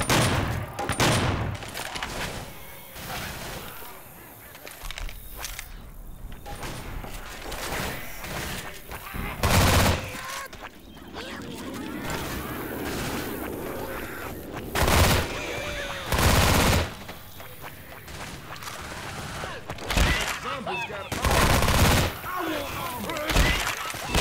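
Shotgun blasts in the video game Survivors of the Caribbean come as loud, sharp, separate bangs spread across the clip, some in quick pairs, over steady game background noise.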